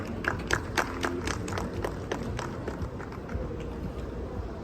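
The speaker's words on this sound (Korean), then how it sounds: "큰 박수로 맞이해 주세요." An indoor audience at a Gwangju robotics and AI industry forum applauds to welcome a speaker, with steady, dense clapping from a crowd that holds at an even level throughout.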